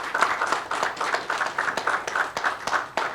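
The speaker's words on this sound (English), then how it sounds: "Please give a big clap." A modest conference session audience claps, with individual sharp hand claps audible in an uneven, steady patter and no one speaking.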